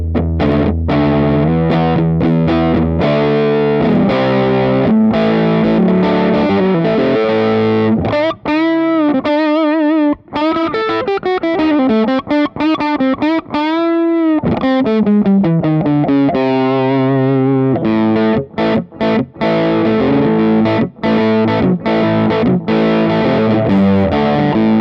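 A rock part on an electric guitar through a Steve Williams treble boost pedal: loud, driven chords and bends, with rapid choppy strums near the end, and no voices.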